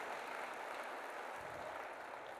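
A church congregation applauding after a Sunday service, a soft, even wash of many hands clapping, distant and faint, with no voices.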